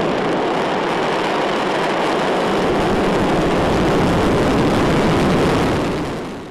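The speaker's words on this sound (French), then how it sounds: "c'est une longue marche 3B qui a décollé avec à son bord le satellite de télécommunication chinois Zhongxing 2D" A Long March 3B rocket carrying the Zhongxing 2D Chinese communications satellite lifts off with a loud, steady broadband roar that holds for several seconds before starting to fade at the end.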